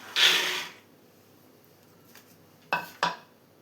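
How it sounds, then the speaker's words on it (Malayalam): A soft rattling pour of green peas into a pressure cooker at the start, then quiet, followed by two sharp metallic clanks close by, like utensils against a pot. "കുക്കറിലോട്ട് ആദ്യം ഗ്രീൻ പീസ് ഇട്ട് കൊടുക്കാം."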